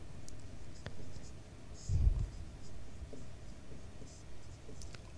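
Someone writes on a board during a Class 9 maths lesson on quadrilaterals, producing faint scratchy strokes with a brief heavier knock midway over a low room hum.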